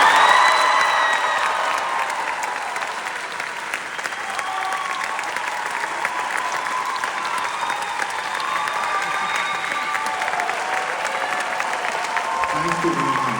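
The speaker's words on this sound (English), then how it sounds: "I love the applause" A large audience at a London parade event gives loud, sustained applause mixed with cheering and whoops, dense clapping that swells at the start and holds steady for the whole stretch, with some crowd noise underneath.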